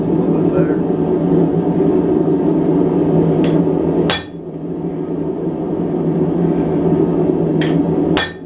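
Hot steel hammered to cut it while forging a Mason jar handle, with sharp metallic strikes ringing out near and loud over a steady roaring forge, one around the middle and another near the end.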